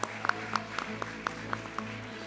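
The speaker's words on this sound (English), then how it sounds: "Can we please have another round of applause for Sachi?" Applause at a school IBDP graduation ceremony in a hall, a steady patter of many hands clapping with individual sharper claps standing out, moderately loud and continuous for a couple of seconds.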